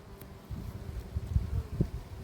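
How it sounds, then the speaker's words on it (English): Guard bees buzz at the entrance of a beehive in an apiary, a low, irregular hum that rises after a quiet start and pulses unevenly, close by, with no voices. "you can see the guard bees on duty there at the entrance, trying to keep everybody out"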